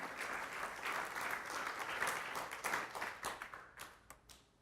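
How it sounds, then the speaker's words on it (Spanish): A church congregation applauds, a dense wash of many hands clapping that holds steady, then thins into scattered separate claps and fades toward the end. "Denle un aplauso a Él"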